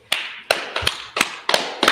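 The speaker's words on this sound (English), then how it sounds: "Just clap it up." Six sharp claps or hand slaps land at roughly even intervals, each a crisp broadband burst with a short tail, loud and close with no talking over them.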